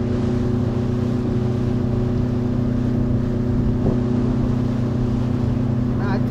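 A speedboat motor drones steadily on open water in Munnar, a constant close, loud hum with persistent tonal engine bands and some voices faintly mixed in.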